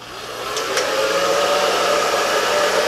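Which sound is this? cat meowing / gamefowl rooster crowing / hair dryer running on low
hair dryer running on low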